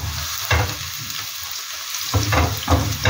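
Sliced onions and green pepper frying over medium heat in salted cooking oil for a coconut fish curry, a continuous close sizzle with periodic louder stirring swishes, no voices.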